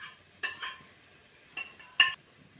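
A few short scraping bursts as a utensil stirs ground fenugreek and asafoetida in a pan, sparse and quiet with near silence between strokes.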